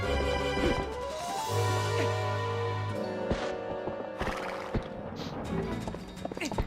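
Epona, Link's horse in the Zelda game Twilight Princess HD, whinnies amid game music and hoofbeats, with a few sharp crashes near the end.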